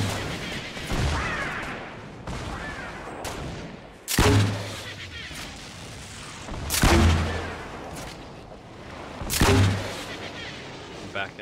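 Fortnite gunfire: four heavy, booming shots spaced a few seconds apart, each a loud close blast with a short rumbling tail, over a quieter bed of game ambience and some talk.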